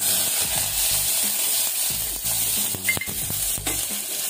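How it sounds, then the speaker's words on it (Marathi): Curry leaves and chopped onion crackle and sizzle in hot oil for a Malvani drumstick and potato curry, a steady close frying hiss with a few sharp pops and bursts of stirring. "तेल चांगलं तापलंय, आता मी याच्यामध्ये कढीपत्ता घालते आणि हा कांदा"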